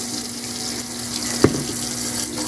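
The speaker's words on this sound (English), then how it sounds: "then I rinse my toothbrush a little bit, add just a little bit of water to it" A sink tap runs in a continuous close stream while a toothbrush is rinsed under it, with one small knock partway through and no talking.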